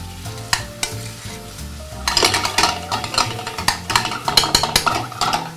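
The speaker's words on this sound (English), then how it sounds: "So our onion and garlic is cooking really nicely." Onion and garlic fry in a pan, a close crackling sizzle with a utensil stirring and scraping against the metal, growing busier after two seconds, with no talk.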